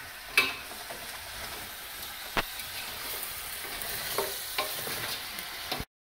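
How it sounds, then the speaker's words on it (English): Lobsters sautéing in a hot pan for spaghetti, a close steady sizzle with a few sharp clicks and scrapes of stirring, no talking, ending abruptly. "The lobsters are sauteing beautifully."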